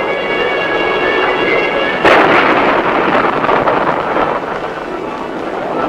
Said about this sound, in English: a fast, accurate, and powerful guided missile launched from our interceptor aircraft